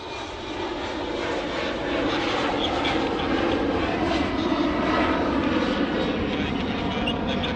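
An airplane landing at Sydney Airport roars steadily through the whole stretch, its engine noise swelling slightly louder toward the middle as it passes fairly close, heard alone without talk.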